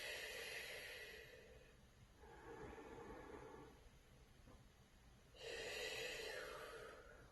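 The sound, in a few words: breathing during Pilates exercise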